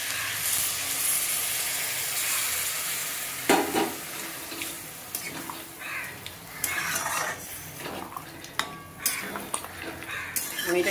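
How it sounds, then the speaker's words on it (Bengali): A fish head is fried with potatoes and rice in a pot before water is added, giving a steady sizzle and hiss with scattered metal clinks and scraping stirs, loud and close. "এবার আমি এখানে 1 বাটি মতো জল দিচ্ছি সেদ্ধ হওয়ার জন্য,"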